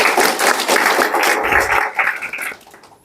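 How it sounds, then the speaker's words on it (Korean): Audience applause during a speech at a redevelopment union candidates' joint election rally, heard as a short burst of close, dense clapping that fades out over about three seconds. "박수 한번 주시죠."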